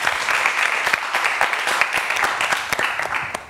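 A TV quiz show studio audience gives steady, lively applause for a school team, dense clapping close and sustained throughout with no voices over it.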